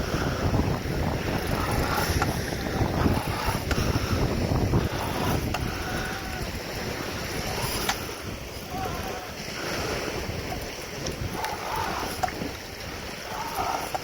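A boat engine drones steadily nearby amid heavy wind buffeting and water noise at a New Zealand rock fishing spot, with faint voices now and then.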